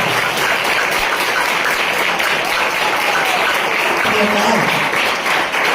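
Sustained applause from a school auditorium audience welcoming a guest, dense and steady throughout at close range, with voices faintly mixed in.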